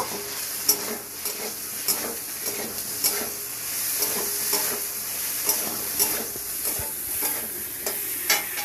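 Ginger and green chilli paste frying in a pan with potatoes, a steady sizzle broken by repeated scraping stirs of the spatula at an even rhythm, close and fairly loud, with no talk.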